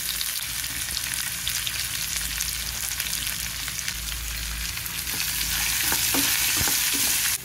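Onion pieces fry in hot tempered oil for a tomato curry, giving a steady, dense sizzle close by with a few stirring scrapes near the end and no talking.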